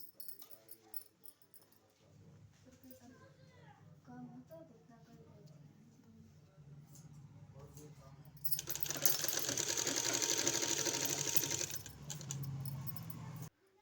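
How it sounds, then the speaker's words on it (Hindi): Sewing machine stitching a kurti hem, a faint whirring run that swells louder near the end, with quiet voices and handling noises before it. "इसी तरह से पूरे में सिलाई लगा देना है।"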